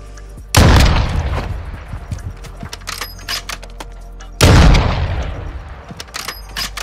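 Two loud gunshot blasts from a Call of Duty Search and Destroy match, fired through a corner with FMJ rounds, each a sharp crack with a decaying tail, about four seconds apart, with faint game ambience between.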